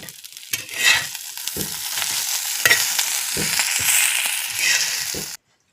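Stuffed okra (bhindi) frying in a pan, a loud close sizzle that swells and fades as the pieces are turned, with scraping of a spatula, then cutting off abruptly at the end.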